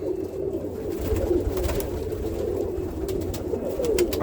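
A South African roller pigeon cooing in soft, low, rolling phrases, close and steady over a faint background rustle, with no talking.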